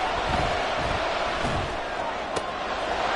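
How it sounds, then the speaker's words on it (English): A football stadium crowd at a Bears at Packers game roaring ahead of a big third down, a steady dense wash of cheering with a brief sharp crack near the end. "The crowd getting into it as we come up on a big 3rd down."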